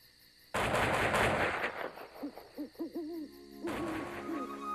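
A sudden burst of rapid gunfire rattles out at night at a camp, followed by an owl hooting several times in the quiet that follows.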